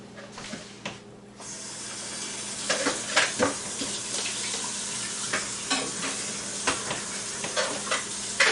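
Tap water runs steadily into a sink while sausage-making residue is rinsed out, with repeated splashing and scrubbing bursts over the constant flow, close and moderately loud.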